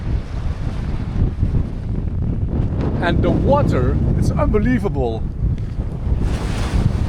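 Strong wind buffets the microphone at a white sandy beach backed by dunes in the Scottish Highlands, a constant loud roar throughout with someone talking over it.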